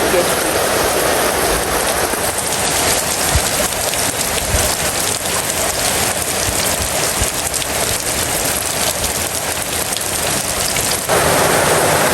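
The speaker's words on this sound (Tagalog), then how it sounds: "Grabe kalakas ng ulan." Heavy rain pours steadily in a dense, continuous roar, close and loud throughout, with no pauses.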